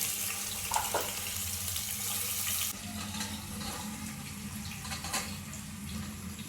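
Spices crackle and spit in hot oil on a low flame while making vegetable biryani: a steady, close, dense hiss that eases slightly about halfway through, with no talk.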